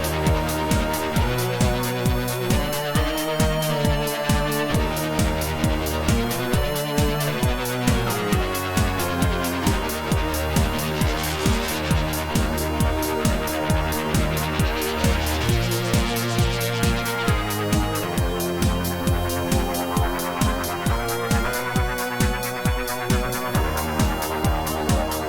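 Nether, a sci-fi synth preset from the Planet Xeon pack for Arturia Pigments 4, plays a dark pulsing sequence of shifting low chords with steady rhythmic throbbing and swelling bright washes, loud and continuous for the whole stretch.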